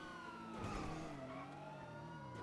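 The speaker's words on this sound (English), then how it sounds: "Why are their sirens sound so fucking cursed?" Police car siren in a GTA roleplay game, a continuous wailing tone sweeping up and down at steady moderate loudness.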